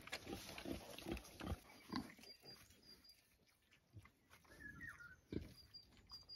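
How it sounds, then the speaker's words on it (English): Pigs grunting repeatedly in short, low snorts while eating cut grass on a homestead, close by, over a steady outdoor background with faint bird chirps. "The pigs are loving some cut grass at the moment."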